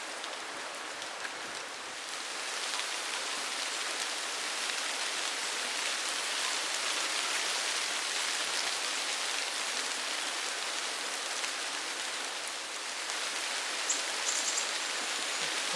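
Steady rain falls outdoors in the French countryside of the Petite Creuse, a soft, even hiss of drops landing on surfaces that holds unbroken and fairly faint throughout.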